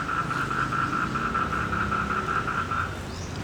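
Frogs croaking in a continuous, pulsing mating chorus in a garden pond in Thong Lor, Bangkok, fairly loud and steady, with a low background rumble underneath.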